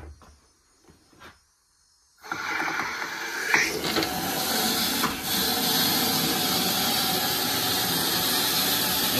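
Venturi suction drawing iron sludge out of an iron and sulfur water filter during backwash mode, heard as a steady loud rushing hiss that starts abruptly after a few quiet seconds with small clicks and then runs continuously.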